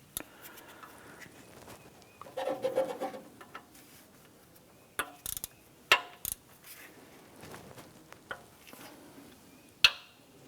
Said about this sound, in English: I'm going to come back to the three front bolts here with our ratchet. I'm going to snug these down.